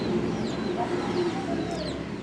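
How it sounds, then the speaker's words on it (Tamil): A chicken clucks close by in short, scattered calls over a steady background of farmyard noise, with no one speaking. "கோழி கிட்ட வருது பாரு"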